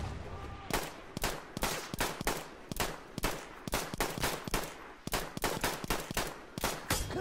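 Sharp, repeated gunshots from Battlefield 1 crack in rapid bursts, loud and close, with short gaps between volleys and a continuous battlefield rumble underneath.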